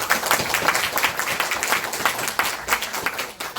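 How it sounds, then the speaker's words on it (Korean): A lecture hall audience gives warm applause to welcome a history professor, producing dense, continuous clapping from many hands that stays loud and even throughout. "뜨거운 박수로 맞이해 주시기 바랍니다."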